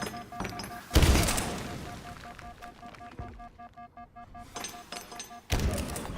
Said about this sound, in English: Can you stop with the nades, please?